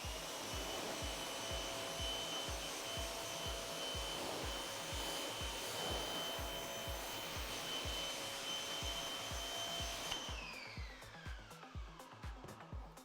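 Water rinsing a car's paint during a ceramic coating test, a steady broadband hiss of spray running continuously with a pulsing pump-like drone underneath, then easing off near the end.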